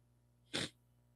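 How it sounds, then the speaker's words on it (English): A single stifled sneeze held in, one short muffled burst rising and falling quickly, close to the microphone, with quiet around it. "I didn't want to sneeze in the microphone, and I held it in"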